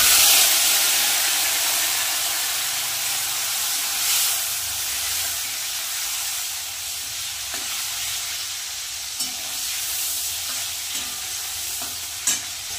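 Whole garam masala, bay leaves and dried chillies sizzle in hot oil with a loud, bright hiss that gradually settles, broken by a few sharp crackles and spits.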